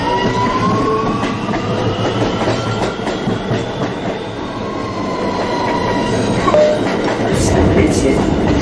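An R211 subway train on the A line runs steadily at close range near 175th Street, a loud continuous rumble with faint wheel squeal and track clatter throughout.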